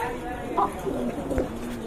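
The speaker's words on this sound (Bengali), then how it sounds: "কোয়ালিটি ফুল এক জোড়া কবুতর" A pair of pigeons coos in short throaty bursts near the mic, with someone talking around the calls and a light background hum beneath.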